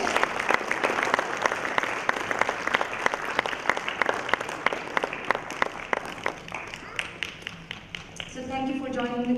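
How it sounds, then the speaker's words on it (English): An audience applauds at a biofuels conference, steady dense clapping for most of the stretch with sharp individual claps standing out, fading as a voice begins speaking near the end. "Please give them a big applause"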